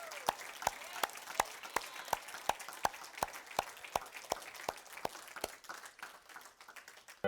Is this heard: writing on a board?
no